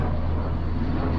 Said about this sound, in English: Sorry for the helicopter noise.